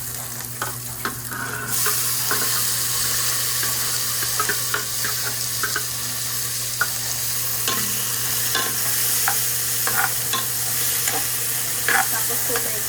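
Tomatoes sizzle in a pan for sinigang, a steady close frying hiss with repeated clinks and scrapes of stirring throughout.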